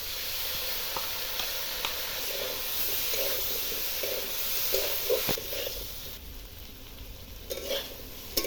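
Chili paste frying in a pan for a jackfruit and prawn curry, with a steady hiss and sizzle broken by soft scraping stirs and a few louder knocks near the end.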